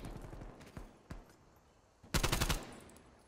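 Video game gunfire: a few sparse shots early, then a loud dense burst of rapid fire near the end, close and sharp with no talk.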